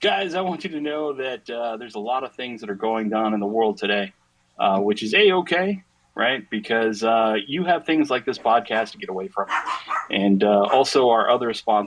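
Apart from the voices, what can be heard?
No everyday noises stand out.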